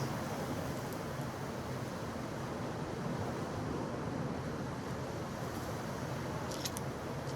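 Surf breaking on a beach in Ceuta, a steady broadband wash of waves rolling in continuously, close and fairly loud, with no voices over it.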